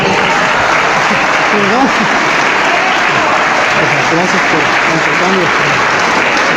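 A large crowd applauds loudly and continuously, a dense roar of clapping with voices calling out underneath.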